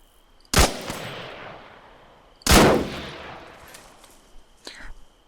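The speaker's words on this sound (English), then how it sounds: "Now those two rounds went through, but they got deflected pretty wildly." Two sharp, loud rifle shots from ArmA 3 small-arms penetration testing, about two seconds apart, each with a ringing tail that fades, then a few faint distant pops.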